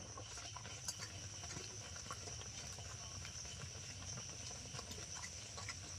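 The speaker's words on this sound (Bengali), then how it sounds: "ডাল সেদ্ধ হয়ে গেছে, আমি হালকা করে একটু ফুটে নেব" Lentil dal with green chillies simmering and gently boiling in a pot, giving a faint, steady bubbling with soft pops throughout and no talking.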